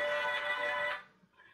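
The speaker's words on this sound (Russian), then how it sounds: "Простите, телефон включился." A phone ringtone chimes out loud and close for about a second with a bright melodic tone, then cuts off into near quiet.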